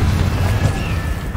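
Hogwarts Legacy's Confringo spell erupts in a loud, rumbling blast with a deep booming body, sustained briefly and close.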